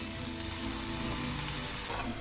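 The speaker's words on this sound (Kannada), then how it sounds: "ಇಲ್ಲಿ ಒಗ್ಗರಣೆ ರೆಡಿ ಆಯಿತು. ಎಣ್ಣೆ, ಸಾಸಿವೆ, ಬೆಳ್ಳುಳ್ಳಿ ಹಾಗೂ ಹಿಂಗನ್ನು ಹಾಕಿದ್ದೇನೆ." Hot oil sizzling with mustard seeds, garlic and asafoetida as a tempering for a chickpea and Malabar spinach curry, a loud continuous hiss that cuts off abruptly near the end.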